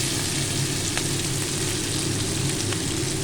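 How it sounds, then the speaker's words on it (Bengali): Capsicum and onion frying in a hot pan for chili chicken, giving a steady, close crackling sizzle that holds evenly throughout, with no one speaking. "ক্যাপসিকামটা দিয়ে আমি খুব বেশি ভাজবো না, কড়া আছে"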